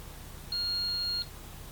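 An OBD scanner checking codes on an Alfa Romeo Giulietta QV gives a single steady high-pitched beep of under a second, clear against a quiet low hum.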